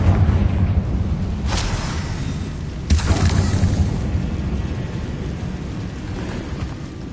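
Booming fire-spell blasts from Hogwarts Legacy's Confringo erupt as broad rumbling explosions, two heavy bursts a second or so apart followed by a sustained roaring wash of noise.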